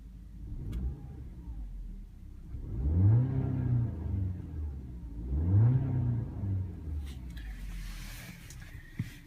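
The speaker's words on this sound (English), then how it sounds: "Let's give it a quick rev from inside the vehicle so you can see how smooth and quiet it is." From the cabin of a 2015 Audi A4 2.0T Quattro, the engine is revved twice, each rev rising and falling smoothly over a subdued idle, heard muffled and moderately loud.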